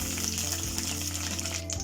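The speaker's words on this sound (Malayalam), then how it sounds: "വെളിച്ചെണ്ണ ചൂടായിട്ട് ഇതിലേക്ക് നമുക്ക് കടുക്, കറിവേപ്പില, ഉണക്കമുളക് ഇട്ട് കൊടുക്കാം" Mustard seeds, curry leaves and dried red chilli sizzle in hot coconut oil for a prawn dish, a loud, dense crackle with a steady hum beneath, close and uninterrupted.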